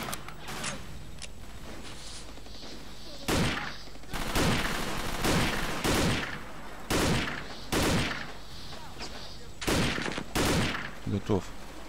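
Bursts of rapid gunfire in the video game Vietcong 2 erupt repeatedly, each volley loud and dense, separated by short pauses with background game noise.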